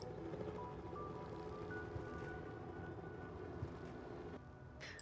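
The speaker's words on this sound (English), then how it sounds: "I wish there was a specific sound setting for the helicopters, because they are really freaking annoying." Simulated helicopters in the city-building game SimCity 4 hum as a steady, faint mechanical drone with thin whining tones layered over constant background noise.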